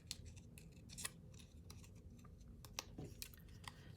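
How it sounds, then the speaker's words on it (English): Quick, crisp snips of scissors cutting paper, irregular bursts of close, small clicks and rustles with no voices. "I'm going to grab my scissors, and I am going to kind of come in a little bit and nick out"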